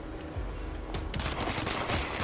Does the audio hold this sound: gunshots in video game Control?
yes